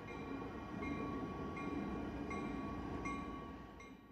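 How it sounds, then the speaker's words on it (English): A freight train rolls past with a faint, steady rumble and a sustained tonal whine, swelling slightly in the middle and easing toward the end, with no voices. "Freight trains."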